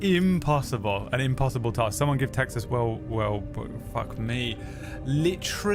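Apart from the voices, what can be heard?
No everyday noise stands out behind the speech.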